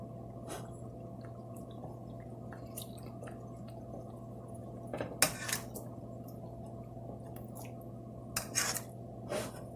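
A utensil scrapes browned bits from steak off the bottom of a pan in scattered short, quiet scrapes and taps over a low steady hum.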